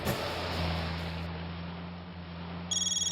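A phone rings through a speaker, a buzzy repeating tone over a low electrical hum, with a brief electronic chirp near the end.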